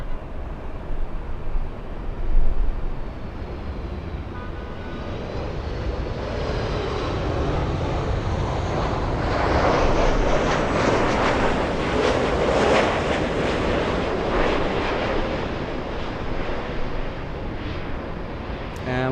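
A British Airways airliner at LAX airport roars past at a distance, its jet noise swelling to a broad peak midway and then easing off, with wind buffeting the microphone.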